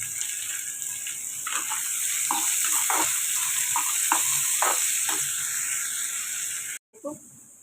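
Sliced onions fry in a pan with a bright continuous sizzle, broken by repeated scraping stirs, before the sound cuts out abruptly near the end.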